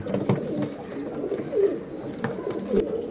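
Male Girebaaz pigeons coo close by in soft, repeated low throaty calls over a steady background hiss, with no one speaking.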